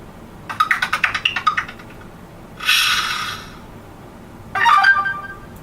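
A Samsung Moment SPH-M900 phone plays notification tones: a quick run of rhythmic chirping pulses, then a brighter buzzy burst, then a short bird-like jingle, each clear and close.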